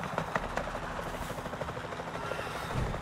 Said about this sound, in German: Der Quetzal rammt eher den Helikopter.